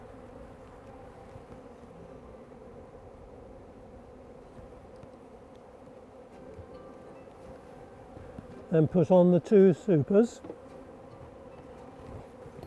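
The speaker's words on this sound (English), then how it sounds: "Now the flying bees are all going to go back into here because that's their normal place to be." Honeybees hum around an open hive during swarm control, a continuous low buzzing drone that runs throughout, with someone speaking briefly near the end.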